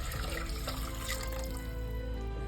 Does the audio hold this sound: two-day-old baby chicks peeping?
no